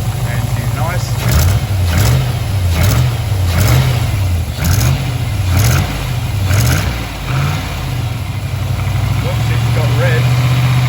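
A freshly rebuilt V8 car engine idles with a steady, rhythmic low throb and pulsing exhaust beat, loud and close, while a person talks over it.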